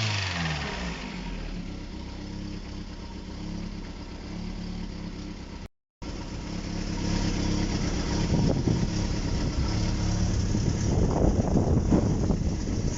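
An old car engine, its fuel pump hot-wired from the ignition, starts for the first time in an unknown period. A steady low rumble with wind noise is heard, briefly cut out, then returning rougher and louder.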